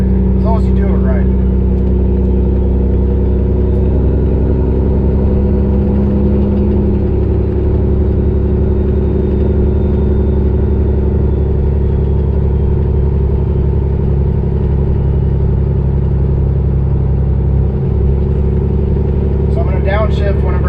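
A semi truck engine is revved while the driver floats gears to downshift, giving a loud, steady low diesel drone that rises and settles with each shift. The driver talks over it now and then.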